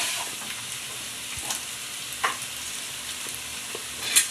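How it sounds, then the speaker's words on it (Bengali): Chopped onions frying in hot oil in a pan for a dhaba-style chicken curry with peas, giving a steady close sizzling hiss broken by a few soft stirring scrapes, with no one talking. "এবার পেঁয়াজটা তেলের ভেতরে দিয়ে ভেজে নেব"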